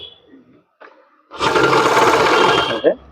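A sewing machine stitches down the back pocket welt of a men's trouser, a loud steady mechanical whirr running about a second and a half after a few faint handling sounds, then stopping abruptly.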